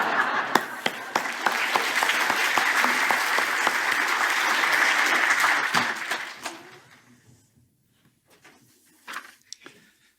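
Audience applause of thanks after a song at a Won Buddhist sermon, a dense crowd of clapping for about six seconds that fades away, followed by a few scattered claps and faint murmurs.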